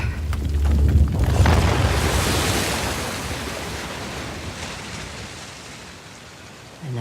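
Water waves in the video game Uncharted: The Lost Legacy wash in as a broad, loud rushing surge that slowly recedes into a steady hiss, with no voices.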